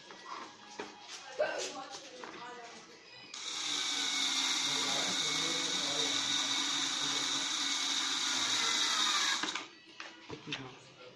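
A power tool drives screws to fasten four metal brackets onto a flower pot speaker stand, a steady loud whirring buzz lasting about six seconds, with brief handling knocks and clicks before and after.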